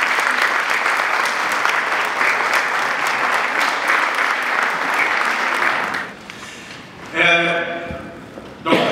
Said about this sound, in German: Herzlichen Dank an den Künstler und mein herzlicher Applaus dafür